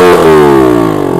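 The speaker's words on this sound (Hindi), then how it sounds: "back fire" Engine with its silencer removed revs hard in a single loud, close burst, the tone sliding downward as it winds off, ending with a brief sharp pop.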